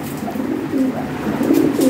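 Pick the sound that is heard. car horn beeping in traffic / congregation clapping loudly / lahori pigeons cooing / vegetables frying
lahori pigeons cooing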